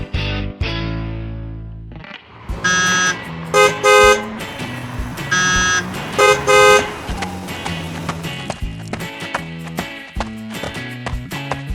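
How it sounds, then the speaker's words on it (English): Busy cartoon road traffic with repeated car horns, in a Peppa Pig animation, loud stylised honks and toots in clusters over engine rumbles and musical stings, close and punchy with no talk. "Dog is struggling in the busy traffic."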